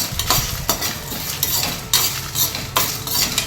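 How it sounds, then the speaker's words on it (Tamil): Masala being stirred and roasted in a pan for Chettinad chicken kuzhambu, with steady scraping and clinking of a utensil against the pan in repeated strokes, close and moderately loud, with no talking. "நல்லா பொறுமையாக வறுத்துக்கோங்க"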